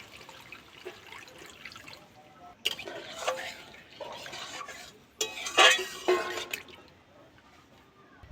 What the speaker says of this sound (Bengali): এবার আমি এর মধ্যে জল দিয়ে দেব খুব বেশি জল দেব না